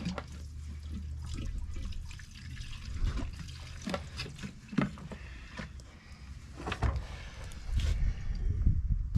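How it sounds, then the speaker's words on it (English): Fresh gasoline being poured into a 2-cycle engine, an uneven liquid sloshing and gurgling with knocks and handling noises, close by with no talk. "So now I'm going to put some of my fresh gas in it just to be sure."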